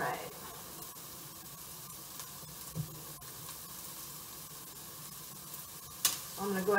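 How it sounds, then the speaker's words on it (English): Vegetables land in a hot pan during a ravioli demo, giving a low steady sizzle with light stirring clatter and one sharp clink near the end, heard fairly faintly. "this pan is hot and I can go ahead and get all these vegetables in there"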